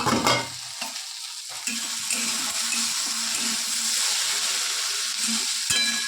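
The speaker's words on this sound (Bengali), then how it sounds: "ঢ্যাঁড়স ভাজাগুলো আরেকটু হোক, তারপরে নামাবো" Okra frying in a pan on a home kitchen stove gives a close, steady sizzle, broken by occasional scraping stirs and a few sharper crackles.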